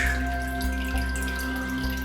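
Steady running water pouring and splashing close by during a planted aquarium water change, continuous and moderately loud with a low hum underneath and no talking.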